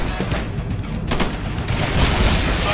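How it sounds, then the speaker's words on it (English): A .50 caliber machine gun fires in a zombie video game at a navy base, with loud, rapid, continuous bursts and chaotic combat noise. "that 50 cal ripping into those things"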